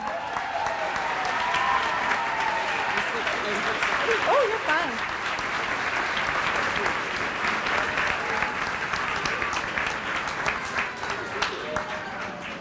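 Sustained applause from a large crowd at an elementary school closing ceremony, steady and dense throughout, with a brief spoken remark briefly heard over the clapping.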